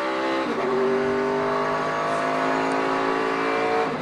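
NASCAR stock cars racing in the Budweiser Shootout, engines roaring loud and steady throughout, with overlapping pitch-shifting engine tones as the pack passes close by.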